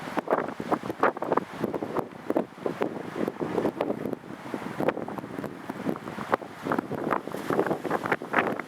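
Strong wind gusting across the summit of Szczytnik mountain, buffeting the microphone in loud, uneven rushes and bursts that continue without pause.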